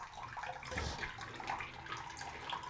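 Tap water runs steadily into a bathroom sink to wet a toothbrush before brushing, a continuous close splashing flow with no voices.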